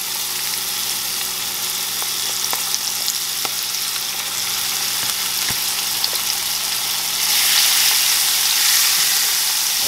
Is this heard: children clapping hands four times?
no